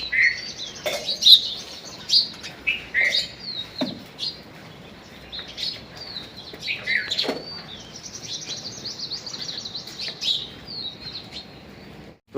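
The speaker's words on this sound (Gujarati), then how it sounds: "આ ચકલું કેવું હોય બેઠો અહીં રહે." A sparrow perched close by gives quick, bright chirps and tweets in irregular bursts, repeated many times over a quiet background with no talking.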